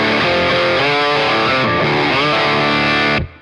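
Electric guitar played through a Beetronics pedal's overdrive setting into a Wannabee, loud crunchy chords shifting over a few seconds before stopping abruptly.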